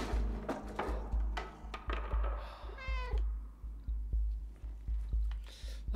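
A cat meows in the video game Stray, a short mewing call sounding once midway over repeated thumping game sounds and a low ambient hum.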